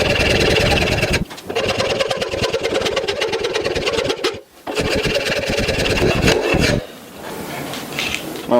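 Rasping and sanding a wooden guitar neck by hand gives steady, loud scraping strokes in a fast repeated rhythm, pausing briefly twice before a quieter stretch of lighter rubbing near the end.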